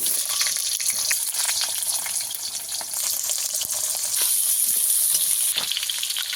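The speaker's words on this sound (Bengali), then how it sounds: "লবণ দিয়ে আমি আলুটাকে একটু ভালো করে ভেজে নেব" Steady loud sizzling of salted potatoes frying in hot oil in a wok, a dense continuous hiss with occasional stirring clicks, no talking.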